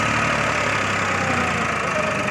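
Farmtrac 60 T20 tractor engine running steadily, a continuous loud mid-to-low idle rumble with faint knocking, no voices.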